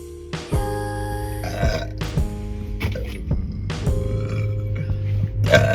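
Several deep burps sound one after another inside a car, loud and close, with a steady low engine hum running underneath.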